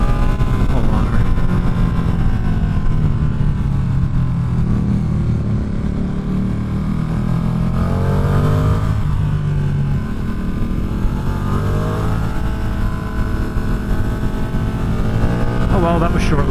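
A Ducati motorcycle engine, heard up close while riding, roars loudly as revs rise and fall through several pulls, with wind noise constant underneath.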